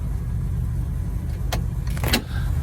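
A Triumph Stag engine with a suspected blown head gasket idles steadily nearby, then takes a couple of short throttle blips that rise and fall quickly over the running engine.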